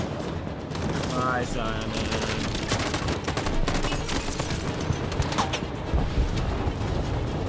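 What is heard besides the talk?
gunfire from the video game Detroit: Become Human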